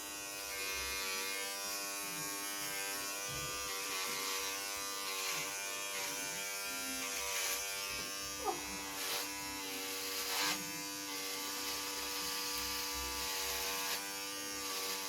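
An electric hair clipper buzzes steadily and close by during a home haircut, a constant tonal hum with a few small shifts in pitch as it moves over the head, and faint voices now and then.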